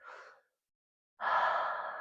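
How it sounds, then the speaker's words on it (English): Breathing during a seated yoga twist: a soft, short breath, a pause of about a second, then a fuller, longer exhale. Both are close and quiet, with no talk. "Breathing there."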